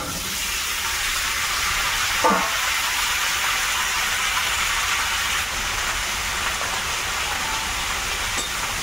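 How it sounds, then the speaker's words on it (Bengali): Water at a rolling boil for tea in a rural Sundarbans kitchen, a steady broadband hiss and bubbling roar that holds evenly throughout, with a brief clink partway in and no talking. "চায়ের জলটা ফুটে গেছে, চা পাতা দিতে হবে।"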